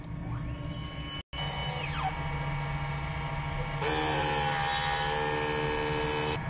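Printer head cleaning cycle running, a steady electric motor whine and hum with sliding pitch sweeps as the carriage moves, briefly cutting out, then continuing louder and brighter.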